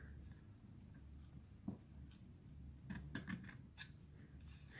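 Scissors trim the edge of a ribbon for a Christmas craft, a few quiet crisp snips clustered near the end, faint and close against a soft room hum.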